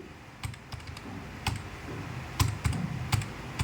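Keys tapped on a computer keyboard while entering a UAN number for an EPF account online, a sparse, irregular string of close, crisp clicks and a few quicker bursts, alone with no talk.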